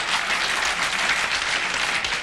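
A large television studio audience claps along with a man, producing steady, loud, dense applause that runs throughout with no voices on top.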